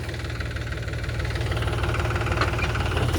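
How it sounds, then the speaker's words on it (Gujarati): A tractor hitched to a stuck sand trolley runs close by with a steady, throbbing idle. Its low, knocking engine rumble holds even throughout, with no voices. "હવે ટ્રેક્ટર ચાલુ કરે છે અને ફેરવવું પડશે."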